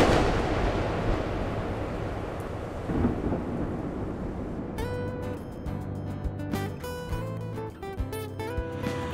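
A long, deep thunder rumble rolls on heavily, then gives way to a dramatic musical passage with sharp struck hits over it.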